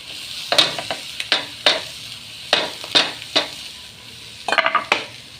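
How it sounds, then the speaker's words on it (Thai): Seasonings stirred into fried fermented shrimp (kung jom) in a pan: a series of close, sharp scraping strokes of a utensil against the pan in an irregular rhythm, ending in a quick burst of several strokes, with a faint sizzle underneath. "คนให้เข้ากันพี่น้องคนให้เข้ากัน"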